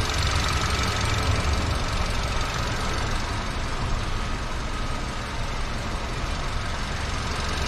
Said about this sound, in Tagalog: kung maalala nyo, ito yung maingay na makina.